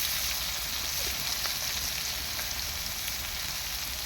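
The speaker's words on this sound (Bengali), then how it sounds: "চিনিটা লাল হয়ে উঠতে দিয়ে দেওয়া হয়েছে তাতে পেঁয়াজ কুচি" Chopped onion fries in reddened caramelised sugar in a pan for chicken butter curry, giving a dense, steady, close sizzle with faint crackles throughout.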